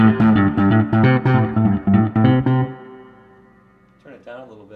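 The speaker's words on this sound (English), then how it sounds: "This is the echo all the way up." A 1967 Ampeg Gemini II bass amp with its echo turned all the way up, a burst of loud, distorted, rhythmic notes that trails off into lingering repeats, followed briefly by a voice speaking.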